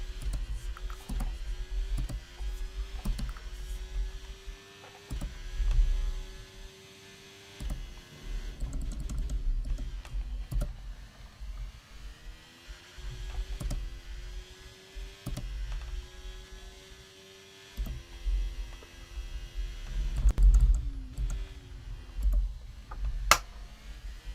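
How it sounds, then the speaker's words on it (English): A sim racing steering wheel gives off intermittent sharp clicks that recur every few seconds over a low electrical hum, close and fairly quiet, with no voices. "Can you guys hear that clicking every so often? Yes. Yeah, that's the wheel."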